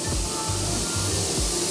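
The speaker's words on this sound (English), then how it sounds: "I spray sealer at about 25 PSI" A spray gun sprays sealer at about 25 PSI inside a paint booth, giving a steady broad hiss that runs unbroken and close throughout, with a few low thumps underneath.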